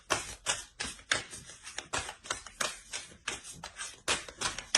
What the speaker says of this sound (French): on va relancer une carte avec l'oracle